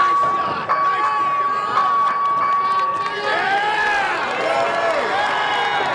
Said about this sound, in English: John getting the crowd going again.